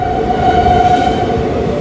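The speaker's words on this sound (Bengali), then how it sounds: "আমাদের ট্রেন ক্রস করছে বালি স্টেশনের 3 নম্বর প্ল্যাটফর্ম থেকে" The Ganadevta Express from Howrah to Rampurhat runs through Bali station's platform 3 without stopping, a loud, close, continuous rail rumble with a steady whine.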